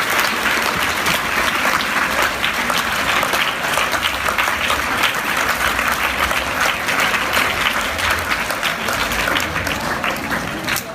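A school audience of students applauds loudly in honour of a principal's honorary doctorate, with dense, sustained clapping that stays strong and even for about ten seconds before easing slightly at the end.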